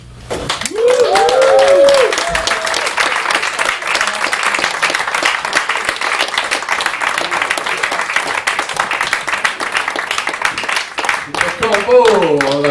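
A slam poetry audience gives a dense, sustained round of applause lasting many seconds, with a voice heard briefly at the start and again near the end.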